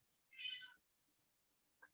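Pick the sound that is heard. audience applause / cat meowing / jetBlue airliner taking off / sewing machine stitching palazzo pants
cat meowing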